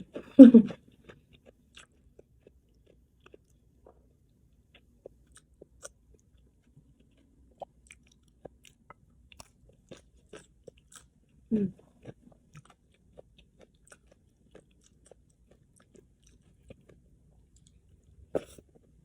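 Faint, sporadic chewing of spicy canned fish salad mixed with shallots, chili flakes and fresh chilies, eaten with sticky rice, with a few louder close bites or mouth sounds scattered through otherwise quiet stretches.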